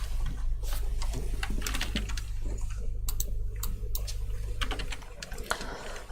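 A sunflower kernel husk splitter in an oil-pressing line runs with a rapid rattling, clicking patter over a steady low machine hum, close by.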